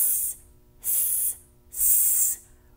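A voice makes three drawn-out hissing S sounds, imitating the sound of the letter S. Each hiss lasts about half a second with short pauses between, and they are loud, close and bright.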